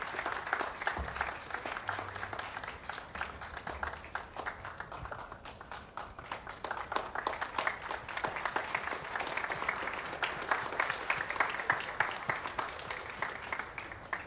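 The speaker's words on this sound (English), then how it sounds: "So please give a big applause to Mr. Joe Coaster." Audience at a Kodaikanal International School music concert in Hyderabad clapping for a performer, a long, steady wash of applause with individual claps cracking through, holding at an even level throughout.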